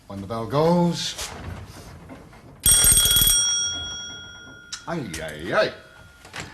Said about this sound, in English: When the bell goes...